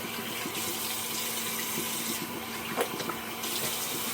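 Tap water runs steadily in a shower as a face is wetted before shaving, a close, continuous splashing hiss with faint drips and shifts in the flow.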